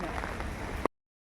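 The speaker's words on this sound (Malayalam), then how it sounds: "അങ്ങനത്തെ കാറ്റ് മഴയാ." Steady broadband hiss of wind-driven rain pouring down, dense and continuous for under a second before cutting off abruptly.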